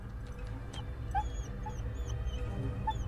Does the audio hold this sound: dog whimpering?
yes